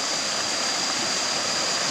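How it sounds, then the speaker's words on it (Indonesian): A river stream flows in a steady, broad rushing wash, close and continuous with no pauses and no voices. "aliran kali ini ataupun sungai ini"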